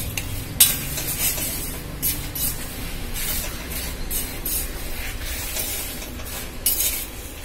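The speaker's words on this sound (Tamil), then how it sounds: "இந்த கருவேப்பிலையும் நல்லா மொறுமொறுன்னு வறுபடணும். அந்த காஞ்ச மிளகாயும் வறுபடணும்." Curry leaves and dried red chillies dry-roasting in a pan for a lentil spice powder, giving a steady close hiss broken by repeated scraping and clattering of the stirring spoon.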